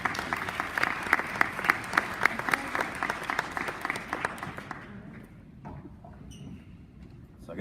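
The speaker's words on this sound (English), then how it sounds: "Please start clapping your hands right now and give a round of applause" An audience at a sober and safe driving campaign event gives a round of applause, with sharp rhythmic claps over a crowd patter that stop abruptly around five seconds, leaving quieter room noise and scattered sounds.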